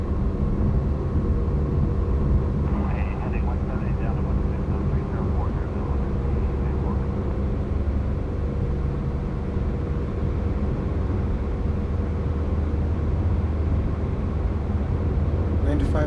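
Twin-engine Beechcraft Baron 58 accelerating down the runway in the X-Plane flight simulator, a steady engine drone with a faint higher whine, continuous and even throughout.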